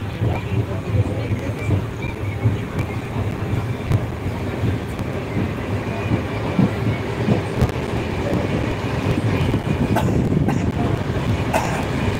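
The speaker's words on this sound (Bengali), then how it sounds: "চলে যাচ্ছে রাজধানী এক্সপ্রেস সুপারফাস্ট" Rajdhani Express superfast train passing close by, a steady loud rumble of wheels and carriages with faint clickety-clack running the whole way through, without any voices.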